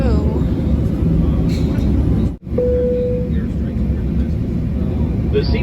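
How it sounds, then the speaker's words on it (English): An airliner taking off on the runway, heard from inside the cabin as a loud, steady broadband engine roar with a brief dropout midway, continuing strongly to the end. "So I'd like our flight attendants to prepare for takeoff."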